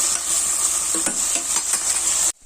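Tomato, okra and shallots fry in hot oil with a steady, close sizzle, broken by a few soft stirring clinks before the sound cuts off abruptly near the end.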